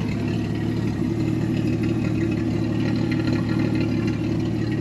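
A 1965 Ford Mustang six-cylinder engine idles through a single exhaust, a steady, close, low rumble with a soft, even beat and no speech over it.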